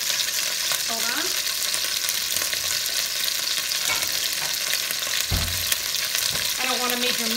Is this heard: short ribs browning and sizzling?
yes